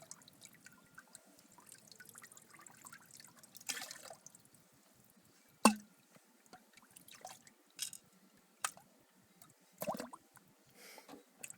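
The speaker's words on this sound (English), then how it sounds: "It's dumping water." Sparse drips and small splashes at a pool, faint and irregular, with scattered quiet droplet plinks and one sharper splash against a near-silent background.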